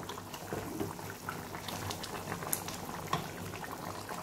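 Chicken curry with coconut simmers in a pot, bubbling and popping steadily at close range, soft and continuous without talk.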